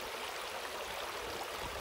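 A small woodland waterfall on a Georgia property rushes in a steady, soft, even wash of water, faint and continuous with no voices over it.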